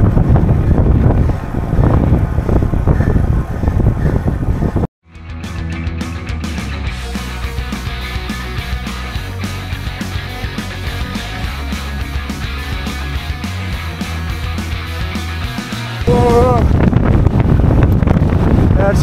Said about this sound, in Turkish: Kafa rüzgarı gelmeye başladı.